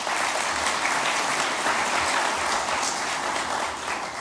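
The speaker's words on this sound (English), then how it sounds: "Please give them a round of applause." An audience applauding at a Gandhi sesquicentennial event at Asia Society, a dense, steady wash of clapping from many hands that holds throughout.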